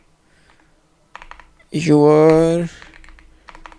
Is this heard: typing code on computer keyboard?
yes